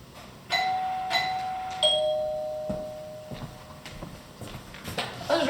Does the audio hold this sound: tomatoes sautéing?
no